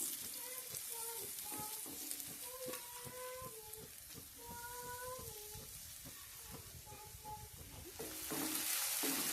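Prawns marinated with salt, chili and turmeric fry in hot oil, crackling and sizzling at low volume throughout, while a short melodic tune plays along with them.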